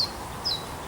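Two brief, shrill, high-pitched chirps from small reed-nesting birds, a short pause between them, over quiet background.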